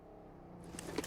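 An in-game car in PUBG Mobile approaches in a steady engine drone, growing slightly louder toward the end, with a brief sharp accent near the close.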